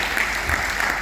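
An audience claps in tribute to the late historian Professor Ram Sharan Sharma, a steady, even wash of applause holding at one level through a brief moment, with no voices on top.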